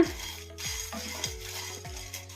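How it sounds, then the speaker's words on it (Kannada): Dried red chillies and cumin frying on medium flame for amla sambar, stirred with a spoon that drags and taps against the pan in a regular rhythm over a light sizzle. "ಇದನ್ನ ಮೀಡಿಯಂ ಫ್ಲೇಮಲ್ಲೇ ಫ್ರೈ ಮಾಡ್ಕೋಬೇಕು"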